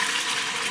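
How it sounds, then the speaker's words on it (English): A cup of water is poured into an Instant Pot holding Better Than Bouillon roasted beef base, making a brief, steady, close splashing gush with no talk. "add that cup of water and the better than bouillon beef base"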